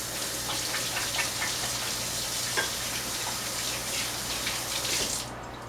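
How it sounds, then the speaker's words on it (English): A kitchen water tap runs steadily while hands are rinsed under it, a continuous broadband splashing hiss at close range with faint irregular droplet spatters, then cutting off abruptly near the end. "Let me rinse my hands quickly here."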